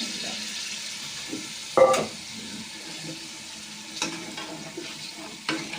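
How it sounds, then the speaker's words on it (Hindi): Potatoes and peas tipped into a tomato masala frying in a pan: a soft sizzle and stirring scrape, with a few louder clattering knocks as the vegetables go in, fairly quiet overall. "टमाटर गल चुके हैं, और हम इसमें अब जो है आलू और मटर ऐड करते हैं।"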